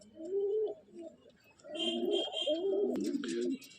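Pigeons coo in repeated throaty, rolling phrases close by, with faint higher chirps scattered above the cooing.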